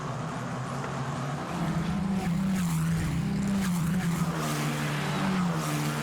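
F1 Academy single-seater race cars at the Austin circuit in 2023 scream past in a loud, continuous engine drone whose pitch rises and falls as they accelerate down the long back straight, with a brief tire squeal and no talk.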